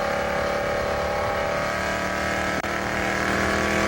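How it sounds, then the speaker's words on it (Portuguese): Safety car engine from the racing game F1 2006 at the Australian round, a steady, loud, droning roar that holds on for the whole stretch with only a brief dip partway through. "esse barulho que você está ouvindo aí é o ronco do motor do safety car ali"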